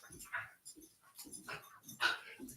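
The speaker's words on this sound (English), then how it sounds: "My dogs are playing." Dogs at play in a home, several short yips, whimpers and barks bursting out in an irregular rhythm, moderately close and fairly quiet, with no other sound between them.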